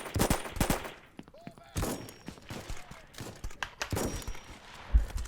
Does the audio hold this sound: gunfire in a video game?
yes